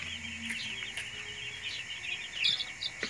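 Repeated chirps and clucks from chickens and chicks in Bulacan, Philippines, at nine in the morning, over a steady background hum, with a busier burst of calls near the end.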